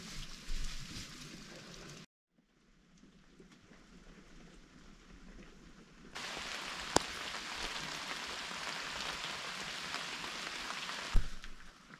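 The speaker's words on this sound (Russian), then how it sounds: "Дождик так и идет." Morning rain falls steadily outside a tiny hut, a soft, even hiss of drops that drops away for a few seconds and then returns louder and fuller.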